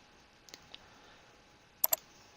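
A computer mouse clicking, a few faint isolated clicks followed by a sharper double click, close and otherwise quiet.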